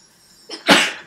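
A person sneezes once, close and loud, with a short breathy intake followed by a sharp explosive burst that fades quickly.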